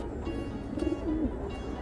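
Domestic pigeons coo softly in a home loft, a few low throaty rolling calls close by over a steady background hum.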